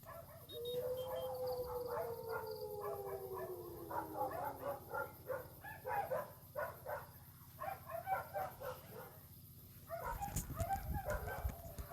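A dog in the video game Dude Theft Wars whines and yips in a series of short, excited barks and whimpers over steady background hum, ending with a burst of rustling noise.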